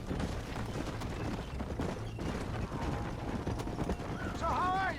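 Horse hooves clip-clopping at a riding pace in the Red Dead Redemption video game, steady rhythmic hoofbeats under ambient game sound, with a brief whinny-like tone near the end.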